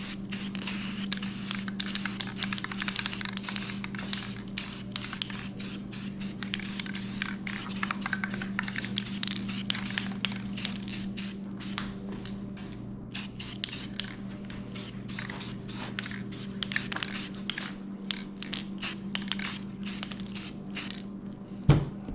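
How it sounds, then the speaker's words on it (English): Olive green spray paint hisses from an aerosol can onto a shoulder mount base in long and short bursts, close and steady, with short pauses between passes and no talking. "So I'm going to hit this with a little bit of green spray paint."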